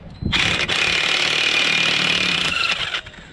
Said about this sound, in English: let's see if my impact can even get them off now that they're an 1/8 inch away from the wheel